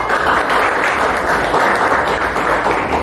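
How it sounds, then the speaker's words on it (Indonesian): Classroom applause for a student named Eja, a loud, close wash of many hands clapping together that runs steadily with no break and no speech over it. "tepuk tangan untuk Eja"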